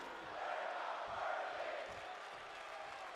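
Wrestling crowd at an indie women's wrestling show roaring and chanting together in a broad, sustained swell that rises and falls over a few seconds, loud and continuous with no talk on top.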